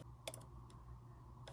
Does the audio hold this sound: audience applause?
no